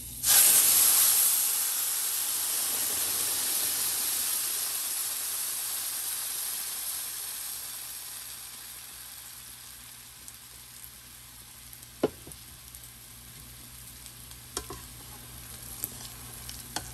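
Ground coriander-leaf paste hitting hot oil with fenugreek seeds for a Bengali cilantro fish curry bursts into a loud hiss that slowly fades to a softer sizzle, with a few clinks of a utensil near the end.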